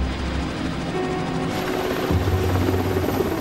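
Sea King helicopters fly close by with a loud, steady rotor drone and engine whine, the pitch shifting partway through, with no talk over it.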